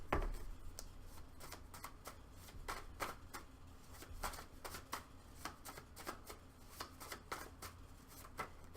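Tarot deck being shuffled close by, heard as a long run of soft, fast card riffles and papery flutters at an even rhythm, faint and with no talking over it.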